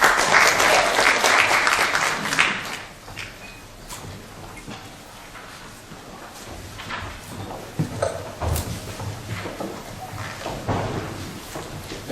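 Audience at a Korean hanok forum on building institutional support for traditional houses applauds a presenter. The clapping starts full and loud, thins after a couple of seconds, then trails into scattered claps and small knocks.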